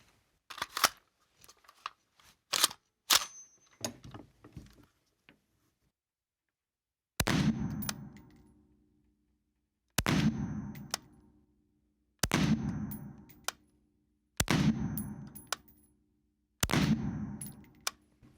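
A Springfield Hellion 5.56 bullpup rifle fires on an indoor range, with a quick cluster of shots followed by five sharp, evenly spaced single reports that each ring out briefly before near silence.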